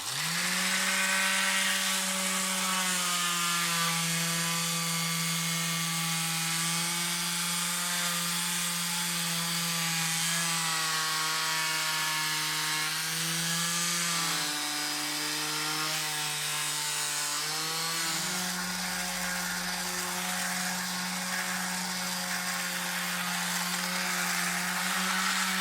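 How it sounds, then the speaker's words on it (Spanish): An electric sander runs continuously on an old painted wooden bench, a loud steady motor whine with grinding abrasive hiss, pitch dipping briefly as pressure changes, alone throughout. "Lo ideal es hacerlo con una lijadora eléctrica"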